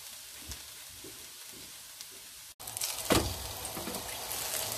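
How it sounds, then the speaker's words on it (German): Kaiserschmarrn, an Austrian shredded pancake, sizzles in a frying pan as it is lifted out, a steady frying hiss that grows louder partway through with a scraping clatter. "jetzt können wir unseren Kaiserschmarrn hier aus der Pfanne holen"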